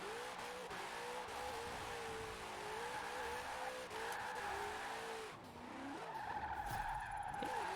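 A Studebaker Golden Hawk drifting in Forza Horizon 4 with a locked differential, its tires squealing and skidding continuously over a steady engine drone, loud and close throughout.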